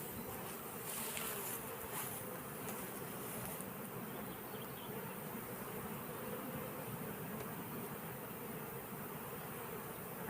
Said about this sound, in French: toujours une abeille douce et calme.